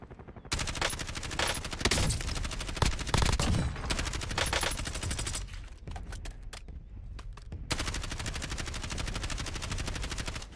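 Sustained automatic gunfire in the Call of Duty video game, loud and close, with long rapid-fire bursts, a short gap of separate single shots midway, then another continuous stream of fire.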